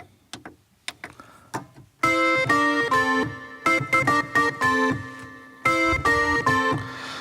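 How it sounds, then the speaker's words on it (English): Bright percussive organ tones from a Studiologic Sledge synthesizer with sharp attacks, playing short chords and stabs in a bouncy rhythm after a few sparse opening notes. "the next bit that we're going to do is the percussive organ sound"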